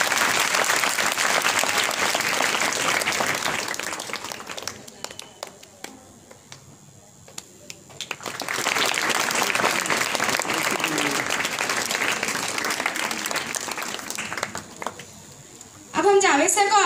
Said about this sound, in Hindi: तालियों की आवाज।